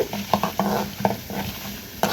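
Mustard seeds and lentils spitting and crackling in hot oil while tempering, with quick irregular pops and stirring scrapes over a steady sizzle, close and fairly loud.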